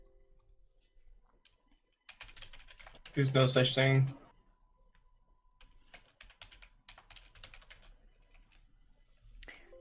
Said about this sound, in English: I apologize for the loud typing on Twitch, by the way.